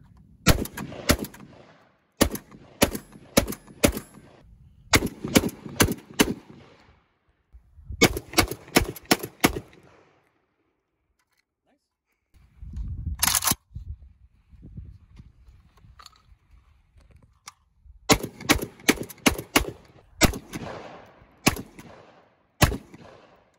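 Gunshots from a VRF14 firearm ring out alone in several rapid strings of sharp, loud reports, broken by short pauses and one lull, without talk.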